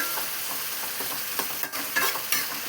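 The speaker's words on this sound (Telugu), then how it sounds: "ఇదిగో ఆనియన్స్ వేసాను" Onions frying in a pan for a curry, a steady, close sizzle with small crackles and brief flares of hiss, no voices.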